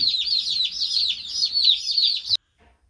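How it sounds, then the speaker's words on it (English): Dense, continuous high-pitched peeping from about 50 Red Ranger broiler chicks in a brooder trough for about two seconds, then an abrupt cutoff to near silence. "this is our big trough that's fitting all 50 of the Red Rangers that we just got"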